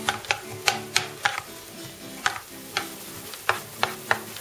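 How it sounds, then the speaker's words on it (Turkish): Chopped onion sizzles in a pan under a steady background fizz, punctuated by sharp, regular clicks of a utensil stirring against the metal. "Doğradığımız soğanı ilave ediyoruz. Şeffaflaşana kadar kavuruyoruz."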